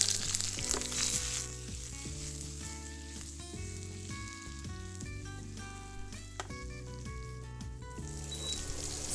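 Onion and pepper fry in organic coconut oil in a hot pan for Thai ginger and prawn noodles, a soft, steady sizzle running beneath louder melodic background music.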